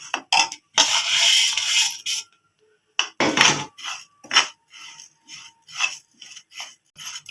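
Rice and moong dal dry-roasting in a pan for sweet rice-and-lentil modak, stirred in bursts of gritty scraping and rasping, with short pauses and one longer break between rounds of stirring.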